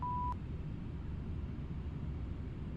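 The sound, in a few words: cockpit beeps in a flight simulator video game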